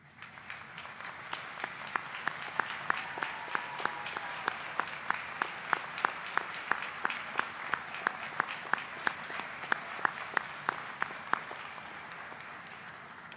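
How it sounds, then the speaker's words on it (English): Steady applause from a room full of people, many hands clapping continuously at an even level with a few sharper claps standing out. "I hope you know how sincere that applause is from everyone in the room"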